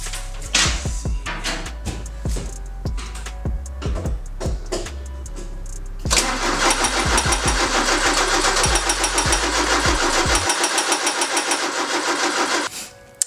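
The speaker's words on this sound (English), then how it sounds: "So the car would not fire up." A Porsche 944 engine cranks repeatedly with rhythmic starter chugs, then the starter whirs faster with a dense whine for several seconds before cutting off, never catching; close and fairly loud, with no talk.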